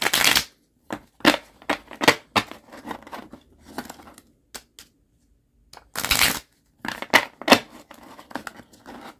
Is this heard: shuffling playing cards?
yes